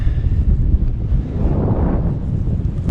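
Strong, steady wind on an exposed hilltop in the Pentland Hills roars and buffets across the microphone without a break, loud and close, with no voices.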